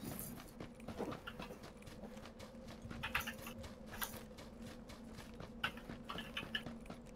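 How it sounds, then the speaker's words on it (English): Footsteps in PUBG, a steady run of faint, close thudding steps repeating across the whole stretch under low background noise. "I hear footsteps right behind me."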